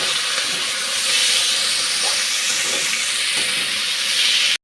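Shrimp rubbed with salt and turmeric frying in a pan, a steady close sizzling hiss that holds evenly throughout with no talking.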